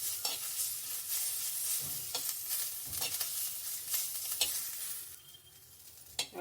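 Green chillies and curry leaves roast in a pan for chutney, giving a steady broadband sizzle broken by scraping stirs, with a quieter stretch near the end before one last sharp scrape.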